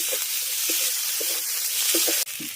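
Spice paste stir-fried in a pan for a katla fish curry, a steady close sizzle with soft periodic scrapes of a spatula, continuing alone without voices.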